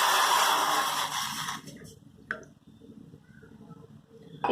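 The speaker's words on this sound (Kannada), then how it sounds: "ಇದಕ್ಕೆ ನಾನು 1 ಲೋಟದಷ್ಟು ನೀರು ಹಾಕ್ತಾ ಇದ್ದೀನಿ." Water, about one glass, poured into a pot on a stove for an herbal kashaya home remedy: a steady splashing pour that stops partway, followed by a few faint clinks and handling sounds.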